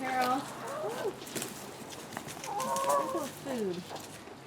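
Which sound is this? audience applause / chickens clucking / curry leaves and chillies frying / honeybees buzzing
chickens clucking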